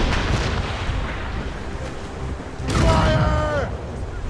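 Ship cannons firing during a naval battle in Assassin's Creed Rogue, with heavy booming blasts and rumbling over a noisy sea-battle backdrop, one especially strong blast near the end.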